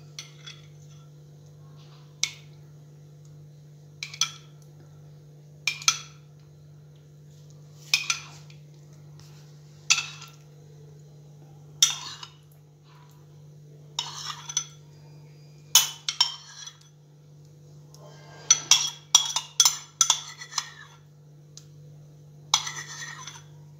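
A spoon repeatedly clinks against bowls as yogurt is added for dahi bhalle, with about a dozen sharp, close taps spaced a second or two apart and a faster cluster near the end, over a steady low hum.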